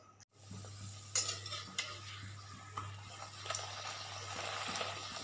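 Potatoes frying in a pan for aloo dum, a low continuous sizzle with a few utensil clicks and light stirring, fairly quiet and steady.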